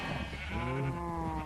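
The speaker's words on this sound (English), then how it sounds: "I found someone else's donkey" A donkey brays in a video game, one harsh, drawn-out call of about a second and a half, loud and close with no talk over it.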